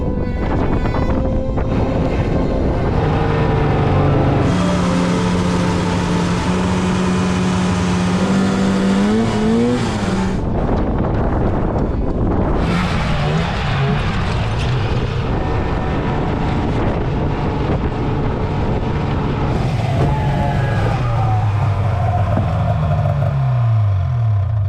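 A car drives along a road near the Straits of Mackinac in winter, with loud continuous engine and road rumble, gear-shift pitch changes and heavy wind buffeting on the microphone.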